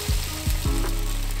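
French toast frying in a pan with steady sizzling, a few soft low thumps from the pan or utensil on top, close and fairly loud.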